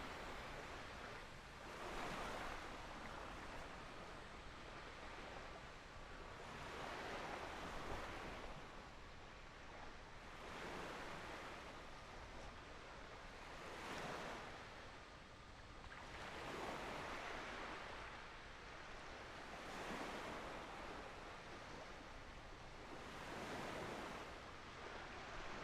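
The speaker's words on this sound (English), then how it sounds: "Listen to the waves." Ocean surf breaks on a beach on the isle of Barra, Scotland, with steady swells surging and receding about every three seconds over constant wind noise, loud and close, with no voices.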